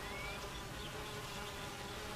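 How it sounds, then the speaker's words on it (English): Constant buzzing of many honeybees close by at a hive entrance, a dense, steady insect hum with no pauses or voices. "Worker bees stand guard at the entrance of the hive"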